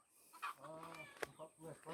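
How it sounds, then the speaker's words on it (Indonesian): Chickens cluck and squawk at feeding time, a busy flock calling close by with irregular bursts of clucks. "Itu dia mengasih makan ayam-ayamnya jam 5 dia."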